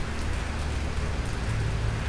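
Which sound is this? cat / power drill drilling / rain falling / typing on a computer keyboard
rain falling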